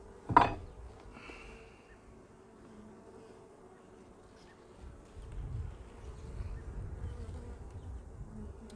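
Honey bees buzz around an opened hive, a low droning hum that swells and thickens in the second half, with a sharp knock near the start and faint scattered rattles.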